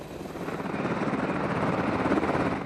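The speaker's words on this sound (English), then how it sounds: "24 Apache attack helicopters to be sent from their base in Germany to challenge the Serbian army in close air combat for the first time" An Apache attack helicopter flies overhead, its rotor giving a loud, continuous rhythmic chopping throb that swells slightly and stays constant throughout.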